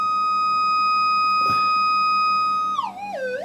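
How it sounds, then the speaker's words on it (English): Minelab metal detector with gain turned up, picking up interference from a nearby fluorescent tube: a steady electronic tone that suddenly wobbles and warbles near the end. "It's picking up the noise from this fluoro tube here."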